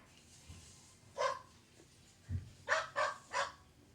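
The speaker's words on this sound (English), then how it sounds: "I think that's a little doggy." A small dog barks in short, sharp yaps, one early, then a quick run of three near the end, fairly close and moderately loud against a quiet background.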